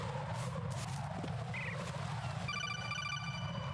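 An in-game telephone rings in rapid electronic trills partway through, layered over a loud, constant low rumble of game background noise, with no talk.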